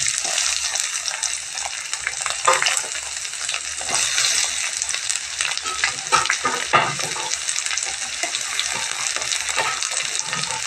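Drumstick flowers sauté and sizzle in a pan with steady, close frying crackle and occasional stirring scrapes throughout, no voices.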